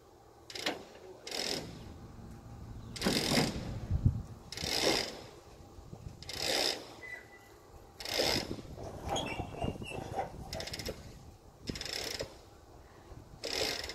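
Selden in-mast furler spooling sail into the mast on a sailboat, with mechanical ratcheting and pulley clicks in repeated bursts, roughly every second or so, fairly close and moderately loud, with no talk.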